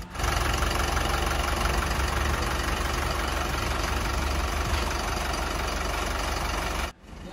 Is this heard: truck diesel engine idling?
yes